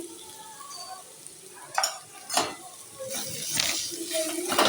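Cabbage paturi cooking in mustard oil with a spoonful of sugar sizzles steadily in a pan, with a few scraping stirs of a spoon and a rising hiss, close by and moderately loud.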